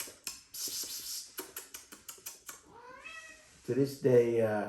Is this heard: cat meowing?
yes